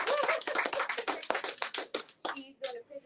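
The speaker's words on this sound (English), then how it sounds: "Please clap." An audience claps at a book reading and presentation event with an author, a dense burst of close applause lasting about two seconds before it thins out and a voice begins talking.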